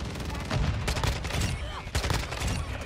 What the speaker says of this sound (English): I am shooting back